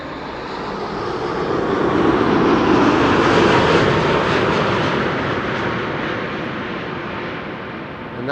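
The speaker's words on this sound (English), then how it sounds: "And that is a 787-10 Dreamliner." A KLM Boeing 787-10 Dreamliner returning from Cartagena lands at Schiphol, a loud, broad jet roar that builds quickly, holds close overhead and then gradually recedes, heard alone without talk.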